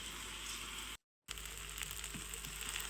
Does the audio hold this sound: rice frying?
yes